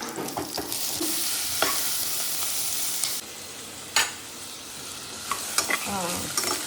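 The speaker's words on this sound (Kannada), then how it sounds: "ಆಯಿಲ್ ಬಿಸಿಯಾಗಿದೆ, ಇದನ್ನು ಹಾಕ್ಕೊಂಡು ಹಾಗೇ ಹಾಕ್ಬಿಡ್ತೀನಿ" Food dropped into hot oil in a pan, a loud, close, continuous sizzle with scraping stirs and a few sharp clatters, no voices.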